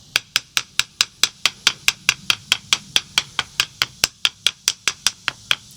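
Red bricks in an outdoor wall being tapped one after another to test how sturdy they are, a fast, steady series of about two dozen sharp, hard knocks, close and loud.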